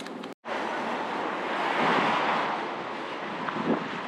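Steady wind roaring by the sea at the Whitby piers, with surf washing underneath and buffeting gusts on the microphone after a brief cut at the start, rising slightly midway.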